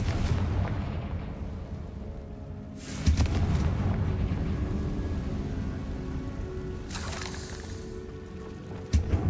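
A Confringo spell explodes in the Hogwarts Legacy video game inside a tomb, with deep rumbling booms and two sharp loud bursts over a low, continuous roar.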